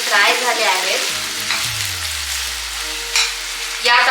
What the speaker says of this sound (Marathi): आता आपले कांदे आणि टमाटे चांगले फ्राय झाले आहेत।